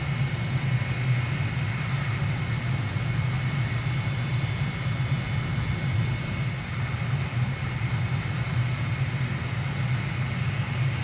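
Airliner engines in Microsoft Flight Simulator on a landing approach to runway 36 right, a steady, loud low roar with a faint high whine throughout, no voices.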